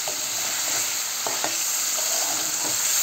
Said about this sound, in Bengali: দেশি মুরগির মাংসটা কড়াইতে দিয়ে দিলাম। দিয়ে একটু নাড়াচাড়া করতে হবে, মাংসটা কষাইতে হবে।